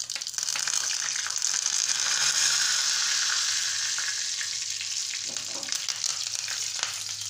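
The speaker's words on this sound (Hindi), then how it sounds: "और इसमें डाल देंगे करी पत्ता।" Curry leaves and green chillies sizzle loudly in hot tempering oil for dhokla, a dense continuous crackle that swells early and then eases slightly.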